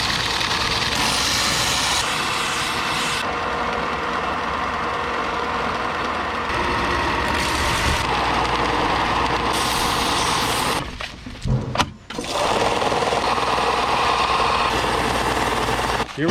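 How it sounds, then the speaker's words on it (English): A power sander with 320 grit abrasive polishes a bone spear, making a loud, continuous, rough grinding roar close by that runs almost the whole time, with a brief dip and break near the end before it resumes. "Now we're gonna go and polish this up a little bit."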